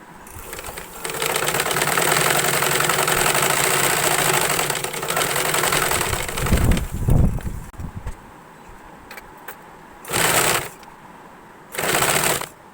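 Sewing machine stitching a top made from nighty fabric, a steady mechanical whirr running for about eight seconds, then stopping, with two short bursts of stitching near the end.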